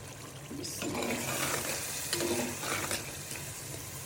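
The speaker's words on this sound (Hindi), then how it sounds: "2 अदद प्याज लिए हैं। अभी इसकी करेंगे भुनाई।" Onions sizzle and crackle in a hot pan, a steady frying hiss with occasional stirring scrapes, close and fairly quiet.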